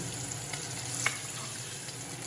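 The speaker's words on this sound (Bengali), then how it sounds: "তেলটাও গরম হয়ে গেছে তাই আমি মাছের মাথাগুলো এখন একটু ভেজে নিচ্ছি" Fish heads, rubbed with salt and turmeric, fry in hot oil, giving a soft, steady, close sizzle with faint crackles throughout and no talk.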